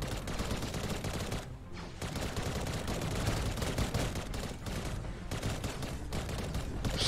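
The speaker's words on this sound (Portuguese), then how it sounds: "Alguém atirou em mim aqui, hein?" Rapid bursts of futuristic gunfire from the mobile shooter N.O.V.A. Legacy, loud and dense, with a near-continuous rattle of automatic shots broken by a few brief pauses.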